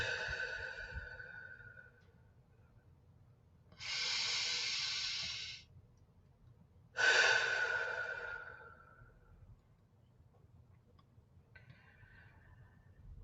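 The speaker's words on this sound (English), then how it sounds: "that deep breathing pattern becomes natural" Deep, slow cleansing breaths during a grounding meditation: two long, airy exhalations, each lasting a couple of seconds, close and clear against a quiet low hum.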